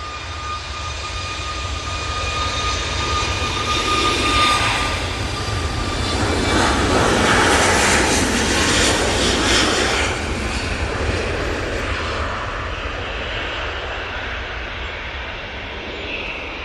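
An airliner departs Manchester Airport bound for Alicante, its jet engine roar building steadily into a loud, broad rumble that peaks midway and then slowly fades as it climbs away.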